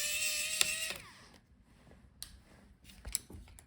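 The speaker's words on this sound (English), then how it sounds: "unscrew the screw on the top" Small screw being backed out of a Razer Blade 14 laptop: a high whirring burst from an electric screwdriver, then quiet, sparse clicks and ticks close by.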